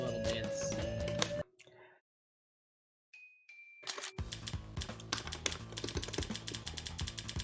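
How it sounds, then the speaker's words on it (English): Rapid plastic clacking of game controller buttons during a Them's Fightin' Herds training-mode session, dense quick taps over game music, pausing briefly in the middle before resuming steadily. "You can hear the buttons clacking here."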